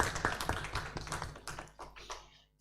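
An audience at a business symposium claps for a speaker, a thin scattering of individual claps that tapers off before a final sharp sound at the end.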